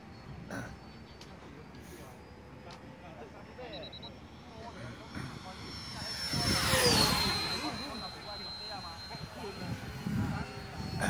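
A yellow T-28 model airplane flies on its maiden flight at a riverside year-end gathering, its engine whining steadily. It swells louder as it passes near, then fades, with people talking throughout.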